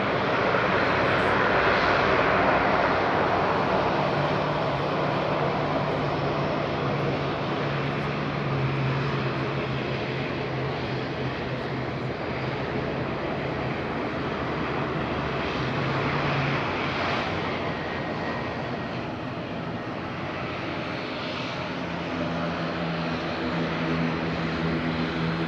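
A propeller airliner at Madeira Island Airport drones steadily and loudly for the whole stretch, its engine roar broad and continuous with a faint tonal hum beneath, easing slightly toward the end.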